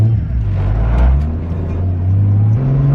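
MK4 Toyota Supra fitted with a T56 Magnum 6-speed manual accelerating in a short pull held under 4100 RPM, a loud, close engine drone that climbs steadily in pitch, steps up near the end and stays continuous throughout.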